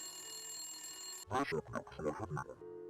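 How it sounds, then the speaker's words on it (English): In the Nancy Drew game Message in a Haunted Mansion, a telephone bell rings steadily and close, then a voice talks over it before the ringing resumes alone. "We're getting a phone call."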